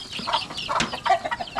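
A chicken kept in a coop clucks in a short run of soft, uneven calls, close by and alone.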